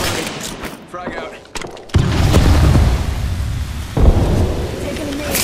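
A frag grenade goes off in Apex Legends, a heavy boom that lands about midway and is followed by a second blast, amid a busy mix of gunfire and combat noise.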